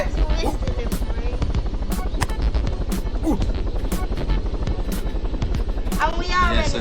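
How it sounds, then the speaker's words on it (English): A helicopter in the video game Totally Reliable Delivery Service churns with a steady, loud rotor chop throughout, while players talk over it. "Oh yeah, we've got this really cool helicopter."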